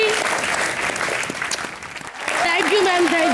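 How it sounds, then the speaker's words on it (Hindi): A studio audience claps on a televised comedy show, brisk and loud throughout, dipping briefly near the middle before a voice speaks over the renewed applause at the end. "जोरदार तालियां।"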